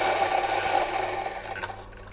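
Coffee grinder crushing fresh coffee beans for an espresso shot: a continuous, gritty rasping whir lasting about two seconds, steady and fairly close, fading slightly at the end, with no voices.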